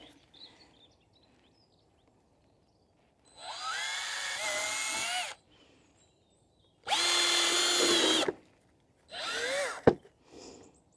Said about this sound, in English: I'm going to drill 3 holes in.